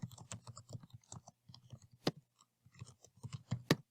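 Close, crisp clicking of keys on a computer keyboard, typed in short irregular bursts with brief pauses and a couple of sharper taps, heard alone and fairly quiet.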